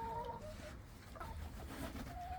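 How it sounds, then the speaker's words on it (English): Farm chickens startled in their pen, a few short squawks and clucks at moderate distance over a low background rumble, no talk. "Something scared my chickens."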